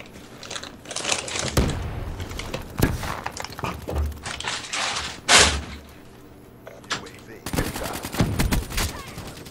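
Repeated gunfire in Black Ops 3 multiplayer, a shotgun among several sharp loud bursts scattered across a busy in-game mix of thuds and clatter, with no clear talk.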